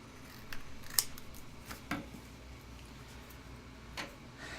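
Scissors trim yellow cardstock for a card, giving a few short, quiet snips spaced about a second apart over a low room hum.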